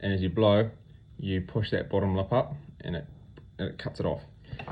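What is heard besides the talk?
No everyday noise stands out behind the speech.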